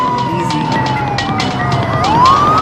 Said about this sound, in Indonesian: Tak lama kemudian terdengar suara sirene dari mobil polisi yang datang.